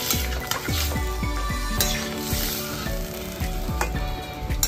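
Water poured into a hot pan of Bengali sukto with lentil dumplings (bori), giving a loud, steady sizzle and bubbling with repeated pan clinks and stirring knocks throughout, no voices.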